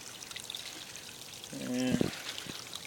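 Water from a feed line trickles and pours steadily at low level into an aquaponics grow bed with a bell siphon, close by, with a short murmur of a voice partway through.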